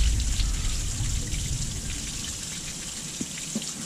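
Water being flushed and blown out of a clogged Dodge Ram heater core with compressed air: a fairly quiet, continuous watery hiss and trickle with a couple of faint drips near the end.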